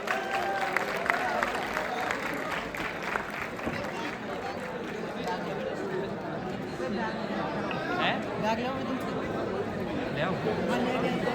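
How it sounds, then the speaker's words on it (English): An audience applauds and chatters for a speaker at a college event, a steady dense wash of clapping mixed with crowd murmur and voices throughout. "Please give a huge round of applause for Pranjal Bansal."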